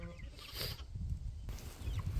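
Chickens on a small farm, young birds penned with older hens, cluck softly and intermittently with low rustling and ambient noise around them.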